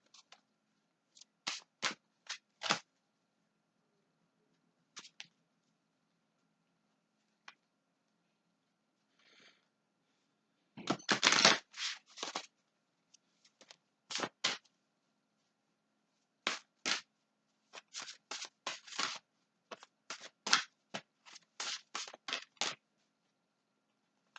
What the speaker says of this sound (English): I'm going to pull a card from the Animal Oracle deck